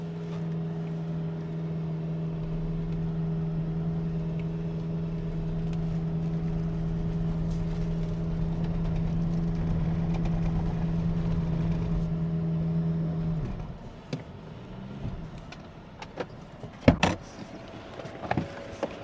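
MG Majestor SUV engine running during an off-road test, a steady loud drone with a strong low hum lasting about thirteen seconds, then cutting off, followed by faint clicks and knocks.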